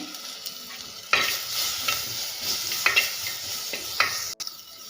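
Ginger garlic paste roasting in a pan for Mangalorean prawns sukka, a steady low sizzle broken by several scraping stirs of a spatula, close and moderately loud with no talk.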